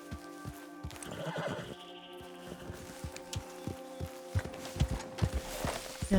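A horse in Red Dead Redemption 2 whinnies loudly near the start, then its hooves clip-clop in an irregular, steady gait that grows louder toward the end, with no talking.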